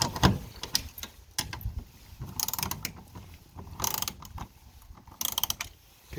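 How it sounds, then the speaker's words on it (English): A socket wrench ratchets while loosening bolts on a garage door wheel bracket, giving several separate bursts of rapid close-up clicking with short quiet gaps between them. "let's use our socket wrench"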